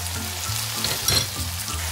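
Bell peppers, red chilies, onions and frozen vegetables sizzle in a hot pan, a steady close frying hiss with a brief stirring swell midway.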